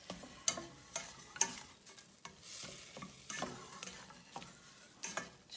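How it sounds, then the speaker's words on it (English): Upma stir-fries in a pan with salt added: faint crackling under a run of sharp spoon taps and scrapes against the pan, recurring irregularly about once a second, with no voices. "and we stir fry this."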